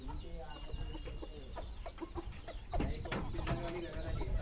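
A heavy, pure desi country-breed rooster gives short clucks and throaty calls, close and fairly loud over a busy background with some faint voices.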